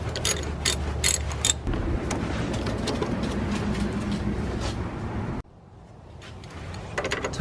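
Ratchet wrench clicking steadily while tightening bolts on a 1997–2001 Toyota Camry 2.2L engine during front-end reassembly; a fast, continuous, close metallic ratcheting that cuts off abruptly, then resumes faintly.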